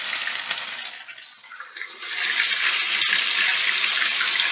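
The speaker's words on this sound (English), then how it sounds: "When potatoes have too much water, it splatters a lot." Grated potato pancakes (placki ziemniaczane) sizzle and spatter loudly in hot oil in a pan, a dense steady crackle that dips briefly before swelling back to full strength.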